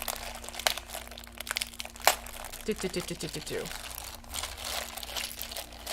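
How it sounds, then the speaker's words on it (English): A plastic bag of miniature parts is ripped open and rustles as the pieces spill into a lap, giving close, crinkly bursts and sharp crackles with a short muffled murmur of a voice in the middle. "You can hear the plastic rustling."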